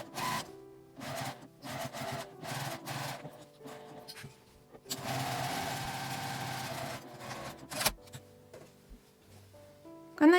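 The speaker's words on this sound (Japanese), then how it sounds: "端ミシンをかけて縫っておきます。" A sewing machine stitches along the folded, pressed edge of fabric for a sewing machine cover, running in several short bursts and one longer steady run of rapid mechanical whirring, close and alone.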